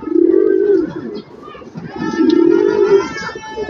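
Pigeons in a loft coo in two close, loud phrases separated by a short pause.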